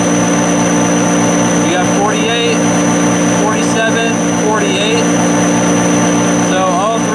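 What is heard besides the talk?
engine running at about 3,000 RPM during stator test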